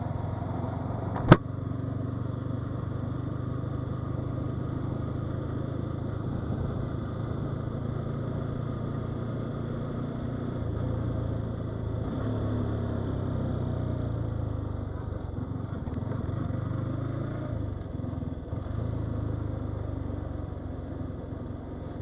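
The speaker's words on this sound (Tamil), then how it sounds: "வண்டியிலேருந்து வித்தியாசமாக சவுண்ட்லாம் வருது" Motorcycle ridden on a road after an accident, its engine a steady low drone mixed with wind rumble throughout, with one sharp click early on.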